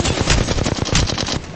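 Rapid automatic gunfire from Apex Legends, a dense burst of loud, closely spaced shots running for about a second and a half with no pause.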